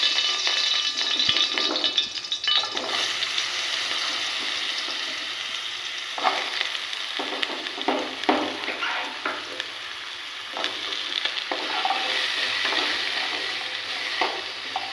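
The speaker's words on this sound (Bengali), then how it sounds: "সেমভাবে আমি আগের মতো করে আলুটাও ভেজে নেব" Potato pieces fry in a wok with steady, close sizzling and frequent scraping stir strokes throughout, the hiss rising in bursts as the spatula moves.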